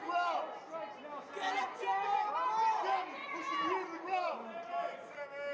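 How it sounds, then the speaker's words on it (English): A crowd at an MMA fight yells and cheers in a continuous babble of many voices, rising and falling, with shouts clearly standing out over the steady hubbub. "You can hear everybody in the crowd cheering for him"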